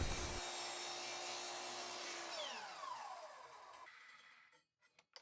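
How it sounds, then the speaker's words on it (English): A miter saw cuts wooden bookcase door rails to length against a stop, a loud steady whine that spins down over a few seconds, followed by brief faint knocks as the cut piece is handled. "I can now go back and square one end of each rail and then cut them to length against that stop"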